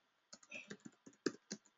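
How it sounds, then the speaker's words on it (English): Quick, close keystrokes on a computer keyboard, about eight separate soft clicks in an uneven rhythm, heard alone in a quiet room. "I'll type it down here for you."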